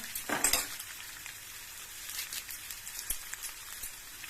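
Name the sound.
dried red chillies and curry leaves sizzling in hot oil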